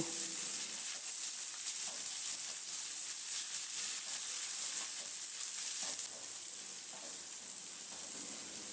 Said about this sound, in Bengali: এবার পেঁয়াজ কুচনোটা দিয়ে দিলাম পেঁয়াজ কুচনোটাকেও কিছুক্ষণ অল্প করে ভেজে নেব